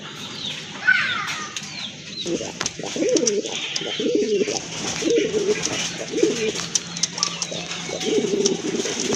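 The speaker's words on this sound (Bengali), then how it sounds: "এই যে দেখেন ডাকতেছে এটা কিন্তু আপনার নর হিউজ সাইজ কবুতরের" A male pigeon of a large breed coos in a repeated series of soft, throaty notes at moderate distance. Brief wing flaps and faint background voices come through between the calls.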